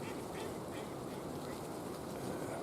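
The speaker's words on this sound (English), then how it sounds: "I can hear them quacking." Ducks quacking out beyond the decoys on a windy Michigan morning hunt, a faint, continuous chatter of calls mixed into steady wind noise throughout.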